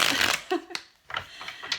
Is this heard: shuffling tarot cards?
yes